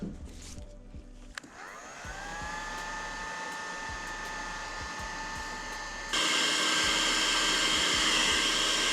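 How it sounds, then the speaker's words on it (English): A heat gun blows steadily at close range while shrinking heat shrink tubing over a wire during mouse-damage repair on a Polaris Sportsman ATV. The whine settles in, then jumps to a louder, rougher roar partway through and keeps going. "I have a heat gun because I didn't want to use a lighter on this."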